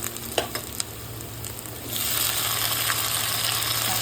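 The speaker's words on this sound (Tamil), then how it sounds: "தக்காளி வதங்கணும்" Tomatoes added to onions already browned in hot oil for a Tamil kofta curry sizzle in the pan, a few clinks of a stirring spoon first, then a louder, steady frying hiss takes over.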